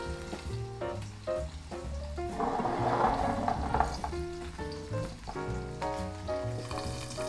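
Steady sizzling of okonomiyaki batter frying in a lidded pan, continuous and close, with some clinks and tonal background music playing throughout.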